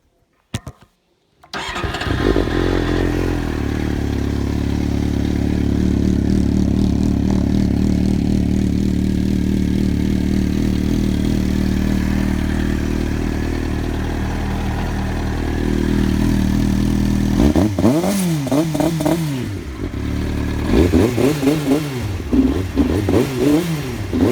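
A Triumph TT600 motorcycle with a newly replaced IACV hose cranks and fires up, then settles into a loud, steady close idle. It ends with a series of sharp throttle revs rising and falling.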